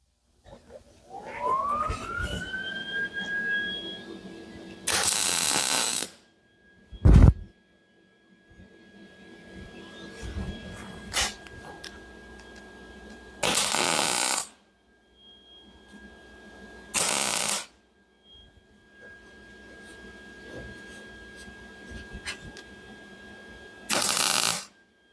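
Several separate bursts of loud welding crackle and buzz, each lasting about a second, as pieces are tack welded on a 1949 Willys pickup, with a tonal machine whine and quieter workshop noise between tacks.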